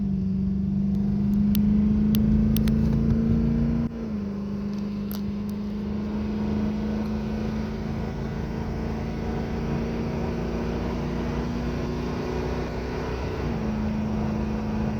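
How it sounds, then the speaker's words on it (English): Chevrolet Caprice PPV police sedan with a big-cam tune pulling steadily under acceleration, its low engine drone loud and close, with a clear drop in pitch at each firm automatic gear shift. "See, the shifts are nice and firm, but not overly hard."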